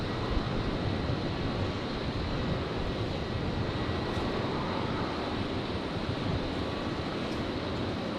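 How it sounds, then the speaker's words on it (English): A China Eastern A330 airliner at Brisbane airport, a broad steady roar of jet engine noise lasting throughout, distant and even, with no voices. "the China Eastern 330 just being cleared for departure on 19 rights"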